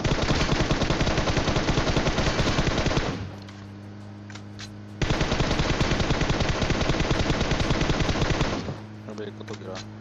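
Rapid bursts of automatic gunfire from a shooting video game, two long sustained volleys separated by a brief lull, loud and dense throughout.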